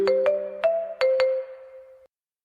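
A Renfe train jingle in its first version: a short electronic melody of five bright, bell-like chime notes in quick succession, the last note ringing out and fading before silence.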